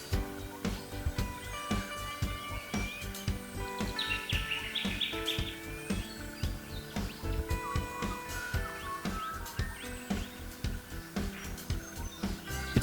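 A brown cuckoo dove calls amid a busy Australian rainforest chorus of other birds chirping and clicking, with repeated calls throughout.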